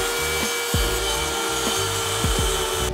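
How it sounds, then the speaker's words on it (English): A Sawzall reciprocating saw cleans out cuts in wood, giving a steady, loud, rhythmic rasping buzz with repeated stroke pulses throughout. "I also have a Sawzall, so I can also kind of clean off some of those cuts as well with that."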